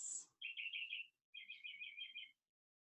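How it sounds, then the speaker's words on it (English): Small birds outdoors give quick bursts of high chirping trills, two short clear phrases in quiet surroundings, faint and a little distant. "Maybe you have some nice birds outside like I do"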